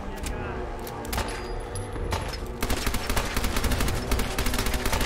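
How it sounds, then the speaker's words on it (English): Rapid gunfire in Fallout 4 crackles densely and continuously in loud bursts that grow heavier halfway through, with someone talking over the shooting. "I'm gonna use up all my ammo, Nick."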